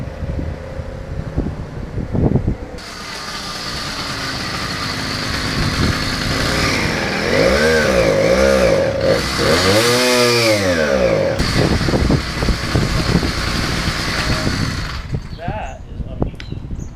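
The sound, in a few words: 80cc motorized bicycle engine running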